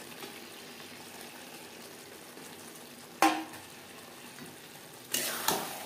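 Fish heads stirred with potatoes and spices in a hot pan for macher mathar kalia, two loud sizzling scrapes of the spoon breaking a quiet low simmer, close, with no voices.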